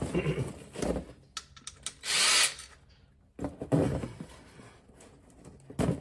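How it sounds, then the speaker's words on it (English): A power tool whirs in short bursts, removing bolts from a 2004 Honda VTX 1800C motorcycle during clutch replacement, with one longer sustained run in the middle and scraping, rattling handling noises between. "Thank God for power tools, right?"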